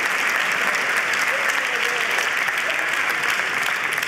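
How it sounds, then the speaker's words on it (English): An audience applauds after a conference talk and panel summary, a loud, dense, continuous round of clapping held steady throughout, with no words spoken over it. "Round of applause for you."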